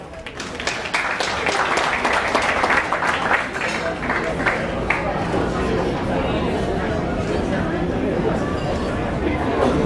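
An audience at a Nigerian embassy celebration in Rome applauds an ambassador, brisk clapping over a murmur of crowd chatter that fades into a steady hubbub of voices.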